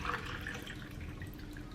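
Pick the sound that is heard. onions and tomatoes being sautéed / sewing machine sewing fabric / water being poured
water being poured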